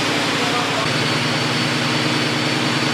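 Car engine running hard on a dyno with its tires spinning, a loud, dense, continuous roar throughout, close up, with voices likely mixed in.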